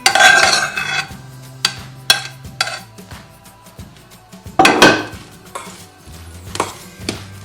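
Onions and carrots being stirred into mashed potato in a pot, with a metal spoon clanking against the pot's sides in irregular knocks and scrapes, some louder strikes between softer stirring.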